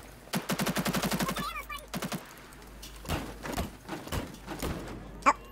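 Rapid automatic gunfire in Halo Infinite shoots at a vehicle, one fast close burst followed by shorter bursts, then scattered impacts and a sharp final crack.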